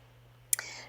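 Scissors snip through sewing thread while finishing a handmade plush toy, a single sharp click followed by a brief metallic ring, close and quiet over a steady low hum.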